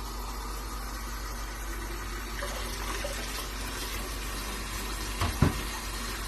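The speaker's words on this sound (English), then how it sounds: "So the pressure of the water is going to make the water come out of the hole." Water streams steadily out of a hole under pressure in a container, a constant hissing trickle running the whole time with a brief splashy clatter near the end, no voices.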